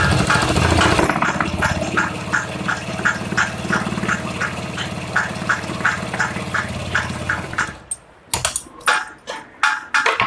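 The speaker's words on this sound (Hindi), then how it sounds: "और हमें इस पे भी सीधी सिलाई लगानी है इस तरीके से।" A sewing machine runs a straight seam on a small child's summer dress, a steady close rapid clatter of stitching for about eight seconds, then stops and gives way to a few handling knocks and rustles.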